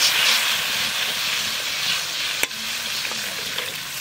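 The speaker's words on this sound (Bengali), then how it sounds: "এইবার কাঁচা লঙ্কা দিয়েই তেঁতুলগুলা জল দিয়ে দেবো।" Tamarind water with green chillies hits a hot pan and sizzles: a continuous bright, hissing fizz that stays fairly even, broken by one sharp clink partway through.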